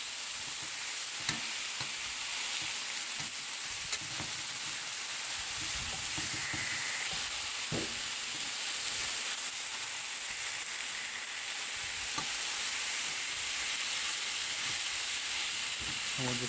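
Glazed pork tenderloin steaks freshly flipped in a hot pan, giving off a steady, loud, hissing sizzle that carries unbroken throughout, with occasional faint pops and utensil taps.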